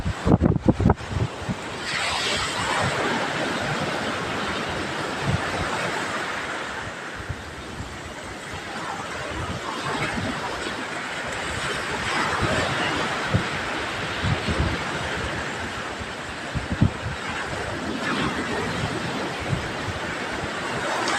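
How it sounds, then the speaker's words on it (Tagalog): Strong wind buffets the microphone over a steady roar of crashing ocean waves, loud and continuous throughout with no voices. "Lalaki ng mga alon mga kaidol. Malakas ang hangin."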